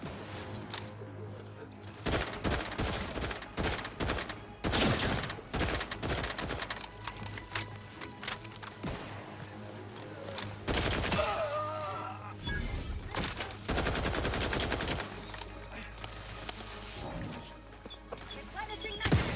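Rapid bursts of gunfire in the video game The Outer Worlds 2, sharp clattering shots layered over game sounds and music, with mechanical clicks and reloads in between.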